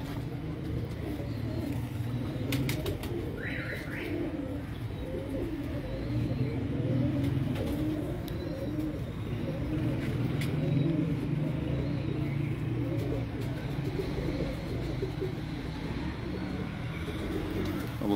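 A flock of domestic pigeons, kept in a large breeding loft in Pakistan, coos steadily and softly throughout in a continuous low murmur, with no talk and a faint bird chirp or two.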